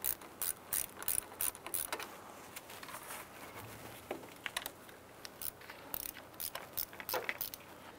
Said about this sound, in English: we're going to go ahead and use a 10 millimeter socket and extension to remove this bolt here